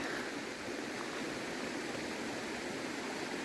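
A brook trout river flows in a steady, broadband rush with no pauses, close by and fairly loud, with no voices over it.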